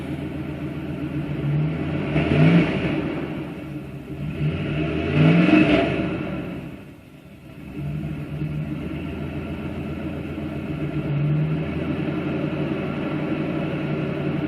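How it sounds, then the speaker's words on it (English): A 1997 Dodge Dakota revs through an inexpensive Lawson muffler with a 2-port exhaust feeding a single pipe, two rising revs over a steady idling rumble, close and loud, then a dip and a return to idle. "that's the sound of the LAWSON muffler with a 2-port exhaust"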